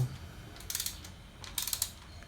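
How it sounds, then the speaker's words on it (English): A torque wrench ratchets and clicks while tightening bolts on a 1996 Honda PH16 engine, two short bursts of rapid mechanical clicks close by, with no speech. "we start in the middle, and we just let it click on to the next one"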